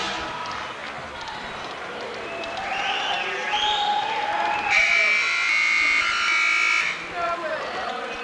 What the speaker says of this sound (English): The College of Charleston crowd enjoying this lead here with just over 2 minutes remaining